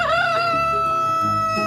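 Backyard chickens call loudly and close by, with a long drawn-out crow rising over continuous clucking from a flock.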